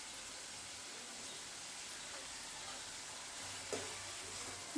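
Turmeric and curry leaves sizzle faintly in a pan with a soft, even hiss while being stirred, and a light scrape or tap comes near the end.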